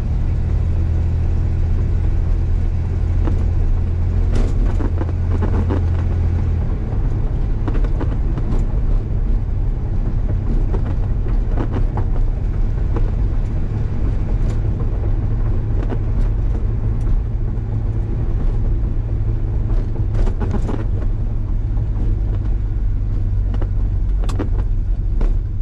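A rough-running truck with seats taken from a Blazer is heard from inside the cab on a bumpy, pothole-filled road, giving a steady loud low rumble with thumps and rattles throughout and no talking.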